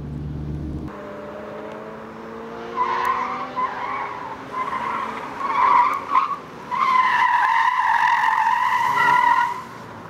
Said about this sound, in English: Each time you go around, faster and faster until you induce deliberate understeer